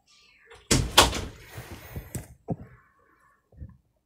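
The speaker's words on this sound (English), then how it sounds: "Shut the door." A door is shut indoors with a loud bang and a rattling follow-up, then some softer knocks and clatter as it settles, heard close and alone.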